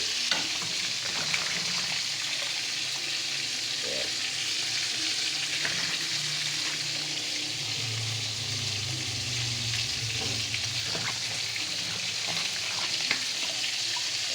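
Wild bitter gourd (wild ampalaya) vegetables fry in a pan with a steady, dense sizzle and crackle, close and continuous throughout, with no voices.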